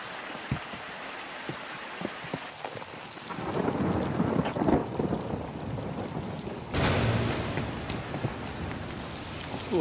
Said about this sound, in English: we're stuck on the flanks of Mount Olympus in the midst of a thunder and lightning storm